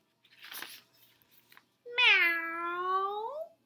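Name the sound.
cat meowing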